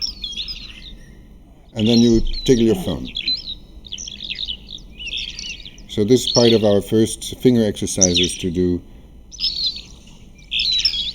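Bird chirps and tweets come from several phones running a web app in a hall, bright repeated calls scattered around, while a person talks between and over them.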